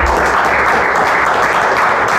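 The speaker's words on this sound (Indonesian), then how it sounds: "tepuk tangan" An audience applauds loudly and steadily at an Indonesian talk event, dense continuous clapping that fills the whole moment with no one speaking.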